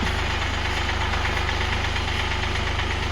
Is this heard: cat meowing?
no